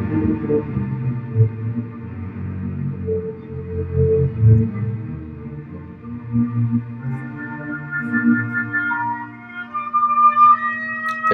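Orchestral recording of the third movement, Scene in the Fields, from Berlioz's Symphonie fantastique, with soft sustained strings and woodwind lines building gradually, a high melodic line emerging clearly toward the end.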